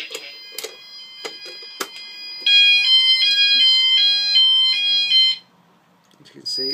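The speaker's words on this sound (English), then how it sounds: "This is a fire alarm." An EMS FirePoint 5000 voice evacuation fire alarm panel sounds a loud, rapid pulsing electronic tone for about three seconds. Brief beeps and clicks come before it, and a short voice announcement follows.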